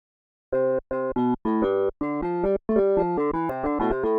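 Clean, dry electric guitar notes from a software guitar plugin with no amp, played in short separate plucks and chords, thin and unprocessed, with brief gaps between phrases.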